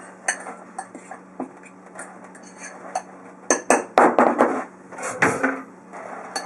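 A spoon stirs a layered rainbow birthday cake mixture in a bowl, giving sparse clinks and taps that build into a quick burst of louder scraping knocks, close up with no voices.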